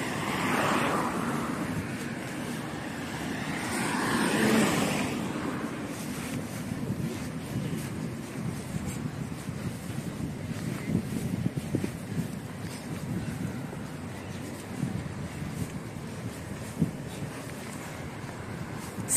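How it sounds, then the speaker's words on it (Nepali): Wind buffets the microphone on the sea shore in Aberdeen, Scotland, over a broad rush of waves and surf, with the strongest gusts early on before settling into a steady roar. "समुद्रको तट आइपुग्यौँ अब हामी"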